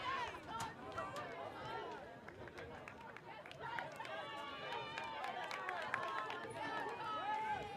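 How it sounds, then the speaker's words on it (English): Crowd at a varsity football game between Exeter and Suffield, heard as a steady wash of many voices and chatter that holds at an even level throughout rather than rising to a single sharp peak. "Big cheer from the crowd."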